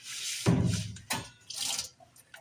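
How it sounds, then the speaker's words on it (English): Water splashes and pours into a coffee container at a café while it is rinsed after emptying out leftover coffee, in several close, uneven bursts separated by short pauses. "So I basically just dump out the coffee, fill it with water."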